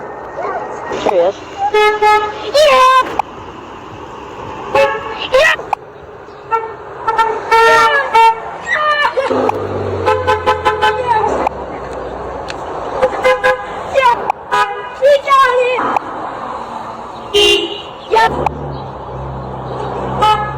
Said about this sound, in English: We got it! Star horn.